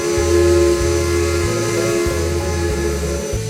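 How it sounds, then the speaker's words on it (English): A Lunkenheimer 3-chime steam whistle on a locomotive in the Trainz 2 railway game, a loud, steady chord sustained throughout over the rhythmic chuffing of the steam engine. "she has one of my favorite whistles she wore, a Luckenheimer 3-chime"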